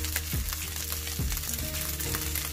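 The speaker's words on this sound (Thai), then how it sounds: "ผัดให้เข้ากันนะคะ" Green curry fried rice being stir-fried in a hot pan, with a steady loud sizzle and repeated scraping sweeps of the spatula at a regular rhythm, no voices.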